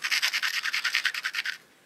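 A flint edge is abraded with a hammer stone in a quick, even run of about a dozen close scraping strokes, steady and near, which stop abruptly with nothing after.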